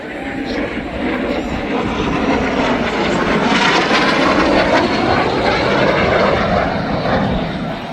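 A jet aircraft flies past at the Camarillo air show, a loud continuous engine roar that holds steady and swells slightly toward the middle before easing, heard close and alone.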